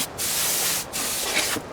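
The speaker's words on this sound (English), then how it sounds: "You know, a dust blower for like computer keyboards." Compressed air dust blower of the kind used for computer keyboards, spraying off sanding dust on an RC airliner build in two close, steady hissing bursts with a short gap between.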